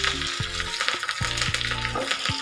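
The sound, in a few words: mustard seeds, dry red chillies and curry leaves sizzling in tempering oil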